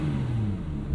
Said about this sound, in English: We'll give it a little exhaust note here.